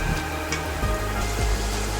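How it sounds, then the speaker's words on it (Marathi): Steady sizzling of brinjal chilli with spring onion greens being stir-fried in a pan, a constant crackling hiss with small pops, close and even throughout. "आता जवळजवळ 2 ते 3 मिनिटं हे परतून घेऊया आपण"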